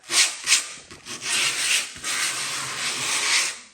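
Skateboard grip tape is rubbed and sanded in close, scratchy strokes, two quick swipes followed by a longer sustained grinding pass, with no talking.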